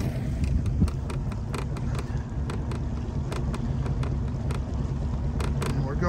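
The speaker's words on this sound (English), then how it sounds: "If you'll see it, the motor is in idle" A boat's outboard motor idles at its slowest while the boat creeps along at about two miles an hour, a steady low rumble beneath someone speaking, with faint ticks and wind over the microphone.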